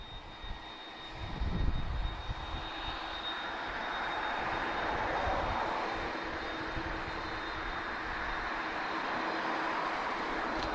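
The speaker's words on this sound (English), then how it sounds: "this is an A330-202, TAP Air Portugal, powered by two CF6 engines, guys, so you'll notice a significant noise difference" An Airbus A330-202 of TAP Air Portugal with two CF6 engines at Lisbon Airport, heard as a steady, broad jet roar with a whining tone, swelling slightly midway and holding at moderate distance for the whole stretch.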